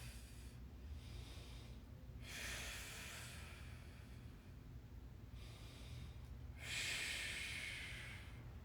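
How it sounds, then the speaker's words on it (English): Slow, deep breathing through full inhales and exhales during a stick mobility workout class, soft airy breaths rising and falling in a steady rhythm, quiet and close with no talk. "Breathe. Full inhale, full exhale."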